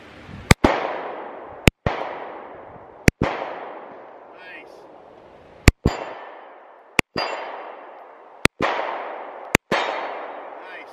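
An M&P Shield pistol fired at a target fifty yards out: eight sharp loud shots spaced about a second apart, each followed by a ringing echo that fades before the next.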